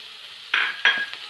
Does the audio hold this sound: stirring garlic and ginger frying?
yes